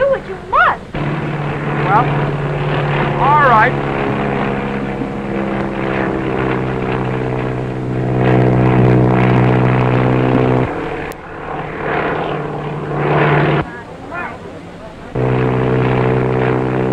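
A droning propeller aircraft engine in a 1937 film hums steadily and loudly throughout, briefly cutting out twice, with voices speaking over it.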